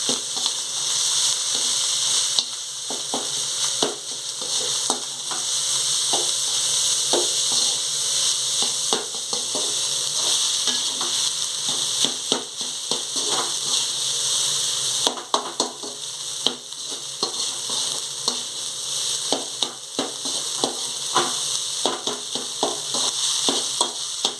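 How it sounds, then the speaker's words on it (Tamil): Egg fried rice is stirred vigorously in a pan over a high flame, giving a loud continuous sizzle and hiss broken by frequent quick scraping and tapping strokes of the spatula, with no voices. "இப்போ ஃப்ளேம் அதிகமாக வச்சுட்டு இதுவாக இருக்குன்னா நல்லா கிளறி விடணும்"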